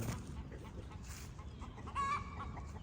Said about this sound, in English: Hear him crowing.